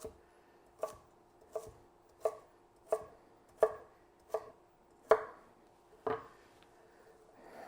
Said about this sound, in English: And there you have it, a perfectly diced sweet potato.